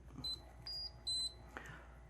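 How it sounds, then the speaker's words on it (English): Three short electronic beeps, clear and high-pitched, spaced evenly apart, from the control unit of a low air loss mattress, followed by a faint click in a quiet room. "You hear a series of beeps."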